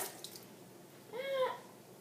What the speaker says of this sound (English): I'm going to put 2 tablespoons of water